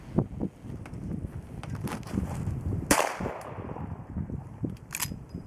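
Sharp reports from a Taurus Model 92 lever-action rifle in .45 Long Colt crack outdoors over steady wind, one strong shot standing out near the middle with fainter snaps around it.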